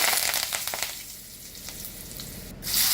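Curry leaves hitting hot oil for a lentil-dumpling kuzhambu, a sharp crackling sizzle and spatter that settles into a softer fry before a loud burst returns at the end.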